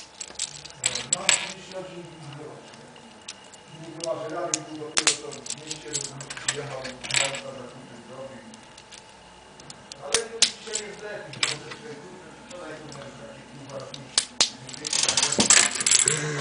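Plastic COBI brick pieces snap and click together while assembling a T-34 tank track, with irregular sharp clicks and rattles close by, under and between a man's speech.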